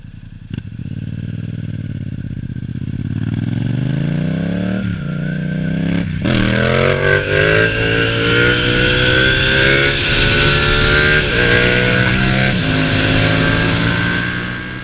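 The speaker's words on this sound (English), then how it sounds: "I'll show you guys a video of what it sounded like." A Yamaha MT-07 motorcycle with an aftermarket exhaust is revved hard and close up. The engine climbs from idle through repeated throttle blips into a loud, sustained raspy roar with a rising pitch.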